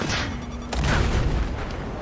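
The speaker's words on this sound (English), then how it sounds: "Oh, that was a railgun." A railgun shot fired from across the map in Battlefield 4: one sharp, heavy boom in the middle of a noisy battlefield rumble, followed by a rolling low tail.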